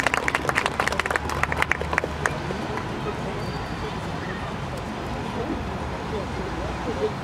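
An audience at a stage event applauds as the next participant, a writer, is invited up; a burst of close hand clapping fades after about two seconds into room noise.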